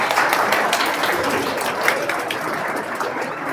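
Dense applause from an audience at a personality development session, steady and sustained with many overlapping claps throughout.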